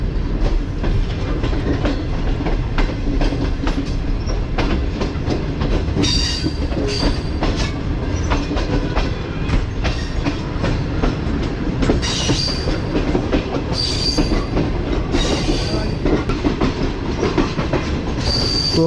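Inside the Tezgam passenger train in Pakistan, wheels roll steadily on the rails with a constant loud rumble and rhythmic clickety-clack throughout, no talk.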